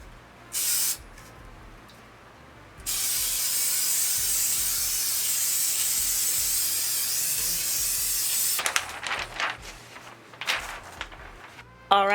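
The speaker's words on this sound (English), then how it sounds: "I'm going to go ahead and do the spray mount" Spray mount adhesive hisses from an aerosol can, first in a brief burst and then in one long steady spray of about six seconds. Quieter rustling and handling noises follow once the spraying stops.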